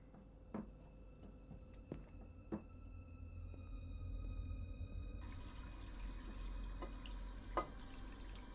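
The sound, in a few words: water running from a faucet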